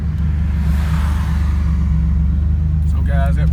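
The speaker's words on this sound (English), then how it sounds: "So it's just a little test drive, just to make sure everything is working." Low, steady engine rumble from a turbocharged Buick Grand National on a test drive with an Alky Control methanol kit, droning close and even throughout, with a brief voice near the end.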